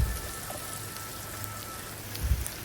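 Fish rubbed with turmeric, salt and chili fries in hot oil with a continuous close hiss like rain, plus a brief louder bubbling burst near the end.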